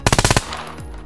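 Rapid burst of about six automatic gunshots from a video game weapon, loud and evenly spaced, cutting off abruptly into a fading tail with no talk.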